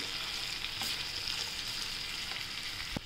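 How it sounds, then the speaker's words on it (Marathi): Corn kernels sautéing in oil in a pan, a continuous bright sizzle with faint stirring scrapes and a small knock near the end. "कॉर्न टाकूया आणि छान परतून घेऊ"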